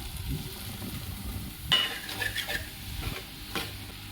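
Mushrooms sizzle in hot oil while being stirred, with a sudden loud hiss and scraping of a utensil against the pan.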